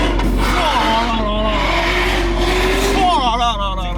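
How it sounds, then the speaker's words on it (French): A Lamborghini SV with its exhaust valves closed idling and burbling nearby, a loud deep rumbling engine note with a revving swell near the end, while people talk over it. "Mais j'ai jamais entendu un bruit comme ça sur une SV"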